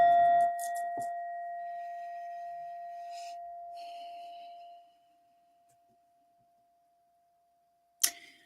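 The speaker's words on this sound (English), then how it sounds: "I also do some sound healing from this beautiful bowl" A singing bowl with a Buddha in the middle, struck once for sound healing: a clear ringing tone that hums on and slowly fades over several seconds, then near silence before a faint sharp tap at the end.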